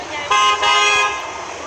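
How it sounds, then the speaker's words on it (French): A Mercedes Citaro C2 city bus horn blares in one sustained honk, loud and close, with a brief dip partway through. "N'hésitez pas à klaxonner"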